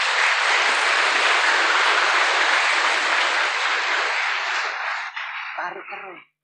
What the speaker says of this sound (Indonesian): Tepuk tangan untuk Pak Nur Asnawi.